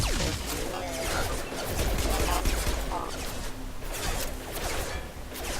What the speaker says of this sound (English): They're just getting shot up by that combat drone and acting like nothing's happening.